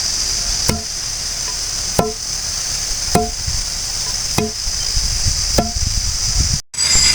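Roasted spices and garlic for idli podi are pounded in a mortar, about five evenly spaced heavy thuds over a steady high hum.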